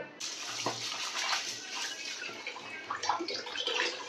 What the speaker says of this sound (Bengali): তো নিম পাতাটাকে একটু আমি ধুয়ে নেব, ভালোভাবে ধুয়ে নেব।